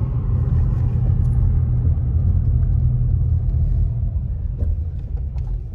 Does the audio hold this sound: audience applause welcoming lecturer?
no